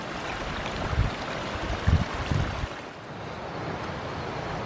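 Side creek water running beside a wilderness trail in the North Absaroka Wilderness in April, a steady broadband rush with a few low gusty thumps, like wind buffeting the microphone, and no voices.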